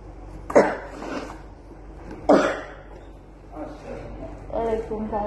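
Two sharp coughs a couple of seconds apart, close to the listener, followed by quieter talking.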